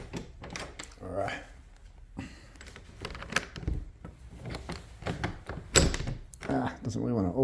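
A stiff back door in a house is pushed open with a couple of dull thuds and knocks, heard close by under ongoing talk from people in the room.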